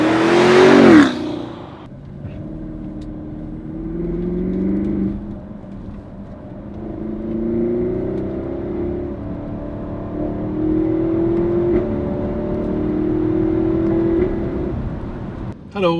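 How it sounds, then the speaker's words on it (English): A BMW X7 M50i with a 4.4-litre V8, driven in comfort mode and heard from the cabin as a smooth, low engine drone that swells gradually with gentle acceleration after a brief loud burst at the start. "Driving the car now in comfort mode."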